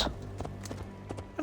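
A horse's hooves clip-clop in the video game Assassin's Creed Valhalla, a handful of evenly spaced, fairly close hoofbeats over a low steady background hum.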